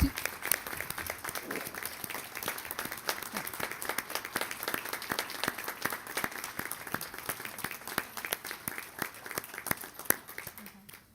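A school board meeting audience gives sustained applause for dual language students, with dense, steady clapping filling the room for several seconds.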